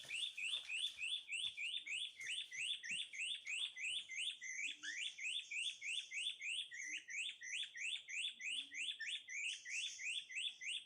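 Bird calls ring out on a hill in South Solok, West Sumatra, at night: a fast, high chirping phrase repeats in a regular, even rhythm throughout, clear against a quiet background.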